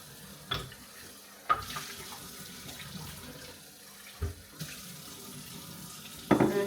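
Kitchen tap water runs into a sink while something is rinsed, a steady low wash of flow with a few sharp knocks and clatters standing out, close and moderately quiet with no talking.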